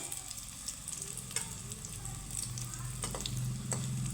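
Soybean chunks frying in hot oil in a pan give off a steady, dense sizzle with occasional stirring scrapes, fairly close and continuous throughout.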